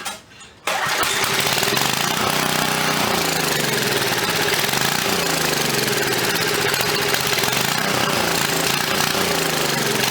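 An old Coleman generator engine runs on its carburetor, struggling to draw fuel from a rusty tank, a loud continuous rough chugging that starts abruptly after a brief quiet moment and holds steady throughout.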